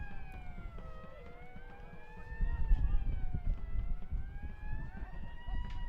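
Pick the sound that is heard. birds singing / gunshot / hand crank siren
hand crank siren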